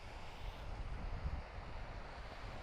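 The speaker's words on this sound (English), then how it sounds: "It's quite windy up here" Wind gusts across a mountain ridge in the Brecon Beacons, buffeting the microphone with low rumbling pulses and a steady rushing hiss, fairly close and unbroken, with no talking.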